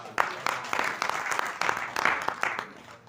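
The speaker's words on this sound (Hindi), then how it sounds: "उत्कर्ष जी को बहुत तालियां बजाइए" Audience clapping after a Vedic religious discourse, a steady broadband patter of many hands with a few sharper claps standing out, moderately loud and continuous throughout with no talk over it.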